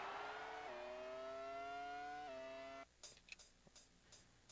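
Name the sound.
race car engine in video game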